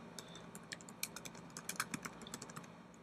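Quick, uneven keystrokes on a computer keyboard while entering an email message in a Mac launcher app, close and fairly quiet, with irregular clusters of clicks and no voice.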